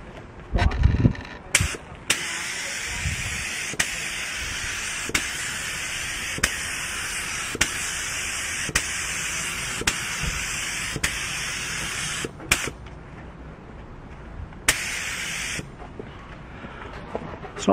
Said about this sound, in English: once you get into your spraying, don't forget your 50-50 overlap